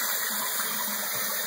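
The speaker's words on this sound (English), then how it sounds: "Let's check that it flushes." An American Standard Cadet one-piece toilet flushing nearby, a loud, steady gush of rushing water that continues through the whole moment without talk.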